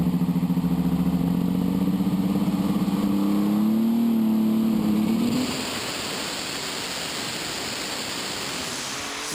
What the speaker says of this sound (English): It's an International 1066 with 3 Holset turbos